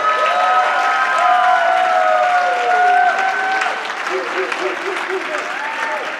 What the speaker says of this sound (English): ladies and gentlemen, warm round of applause for David Wood.